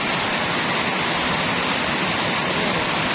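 Heavy rain pours down in Cavite, Philippines, in a steady, dense roar of broadband hiss that fills the whole clip without a break.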